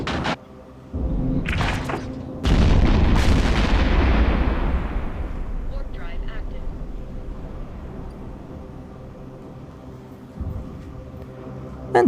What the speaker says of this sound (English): they're using... Probably, by the looks of it, artillery cannons.